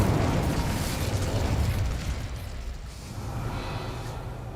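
An Incendio fire spell in Hogwarts Legacy, a loud, close roaring whoosh of flame that slowly fades into a softer rumbling hiss.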